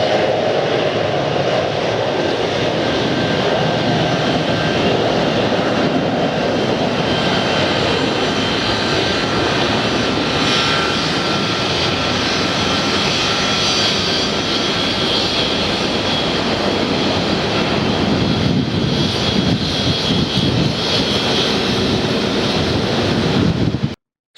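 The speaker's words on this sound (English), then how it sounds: "The do anything, go anywhere, Boeing 757." Boeing 757 jet airliner engines roar continuously for over twenty seconds, a loud, broad rumble with wind buffeting the microphone, heard near and steady with no talking.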